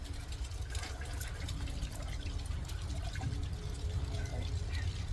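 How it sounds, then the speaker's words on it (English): Plain water runs into a rinse bucket for a three-bucket car wash of a C3 Corvette, a steady low gushing and splashing with small drips and clinks throughout, at moderate volume. "Rinse bucket, I'm just going to fill up with plain water,"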